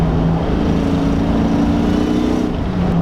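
A 500whp Terminator Cobra's engine rumbles loud and close, a deep continuous throb whose tone wavers slightly as it holds a steady idle-like drone.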